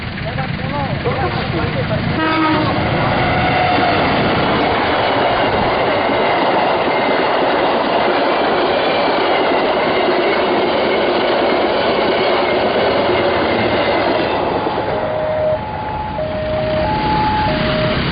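A train rolls loudly past a railway level crossing in Banyumas, with close, continuous rumbling and clickety-clack of wheels, and steady tonal signals sounding toward the end as it passes.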